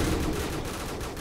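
Call of Duty 4 combat with grenade blasts and gunfire merges into a dense, continuous roar of loud, close bursts.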